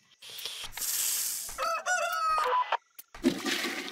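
Cartoonish chicken clucks and a rooster crow from the rhythm game Headbangers: Rhythm Royale, loud and close, with bursty clucking giving way to a sustained crowing call, then a short gap and more clucking.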